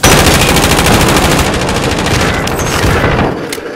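Sustained automatic gunfire in Call of Duty: Modern Warfare, a loud, dense rapid-fire burst running continuously for several seconds before thinning out near the end.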